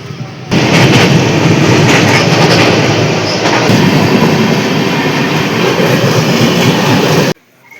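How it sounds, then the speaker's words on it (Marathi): A train runs straight through Raver station on the Manmad–Gorakhpur route without stopping, a loud, steady roar of rolling wagons with clickety-clack rhythm filling nearly the whole stretch before cutting off abruptly at the end. "तिकडं काही ट्रेन थांबली नाही, डायरेक्ट निघाली तिकडून ट्रेन"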